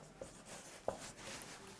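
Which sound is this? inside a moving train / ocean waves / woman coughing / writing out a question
writing out a question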